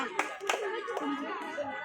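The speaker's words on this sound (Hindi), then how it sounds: "ताली मार जा रे" Hands clapping at a wedding gathering, a few sharp claps standing out over steady crowd chatter and children's voices nearby.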